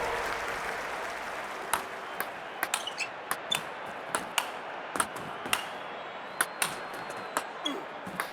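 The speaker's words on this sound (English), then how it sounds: "The crowd go wild and they respond." A crowd applauds continuously in an Olympic table tennis video game on PC. Sharp, regular clicks of the ball striking the paddles and table cut through the steady clapping.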